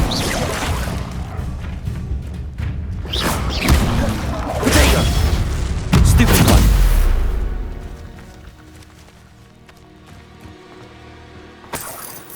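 Expelliarmus disarming spell in Hogwarts Legacy combat, a run of sharp shattering cracks and booming impacts over several seconds, building to a heavy crash before fading to a low rumble, with one last sharp hit at the end.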